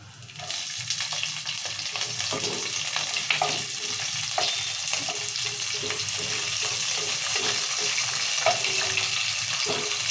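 Green chillies dropped into hot oil with peanuts and chana dal for semolina upma, a steady close sizzle with stirring clinks and scrapes throughout.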